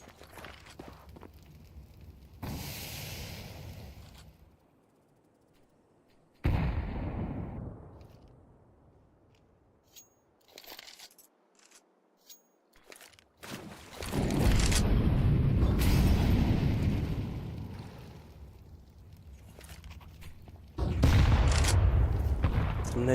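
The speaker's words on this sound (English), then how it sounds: "Some nades thrown in early." Grenades bursting during a spread-out A-site take in a Counter-Strike pro league match, several loud broadband booms and rumbling blasts arriving in clusters with quieter gaps of footsteps between them.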